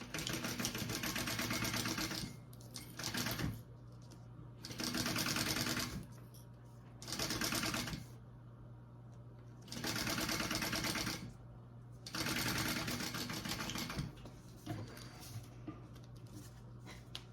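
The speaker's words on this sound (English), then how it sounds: "So I'm just basting this part first, right sides together." A sewing machine bastes bag fabric pieces with right sides together for a Lady Dior-inspired bag, running in about five steady bursts of rapid stitching separated by short pauses.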